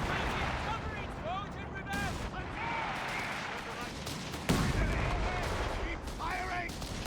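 Gunfire and artillery in Company of Heroes 3, a dense battle mix of repeated distant shots and booming impacts with a louder blast midway, while voices talk over the combat.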